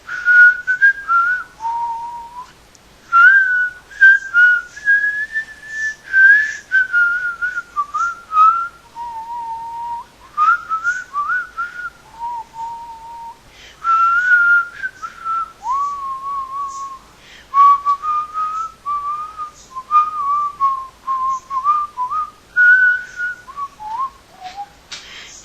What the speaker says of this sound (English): I'm going to whistle this way